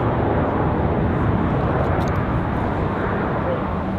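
A Southwest Airlines jet landing at Raleigh-Durham airport gives off a steady, broad engine roar that holds evenly throughout without clear rise or fade.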